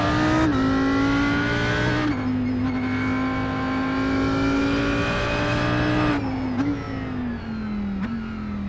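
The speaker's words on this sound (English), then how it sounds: "The sound that is coming out of this exhaust." A GT3 race car's exhaust in the racing sim iRacing roars loudly and continuously, holding a high, buzzing engine note with sudden pitch drops and shifts around gear changes. No one speaks.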